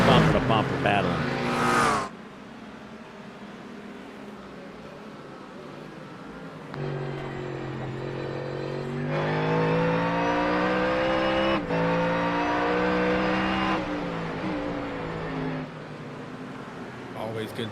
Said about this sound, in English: I love just listening to the sound of the motors, especially when you have this Aston Martin together with the Ford